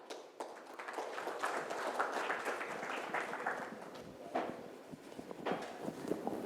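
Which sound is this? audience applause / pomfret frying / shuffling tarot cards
audience applause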